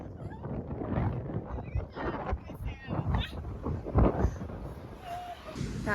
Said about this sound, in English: And it's because it's so windy.